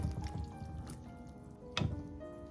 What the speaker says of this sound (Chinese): 然后我们再把它清洗多一遍